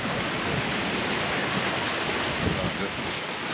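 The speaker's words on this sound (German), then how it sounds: "jetzt kommt hier richtig ein Regenschauer runter" Rain shower and gusting wind on a sailing yacht crossing the Pacific, a continuous broadband hiss of rain and wind at sea, steady and moderately loud with no distinct voices.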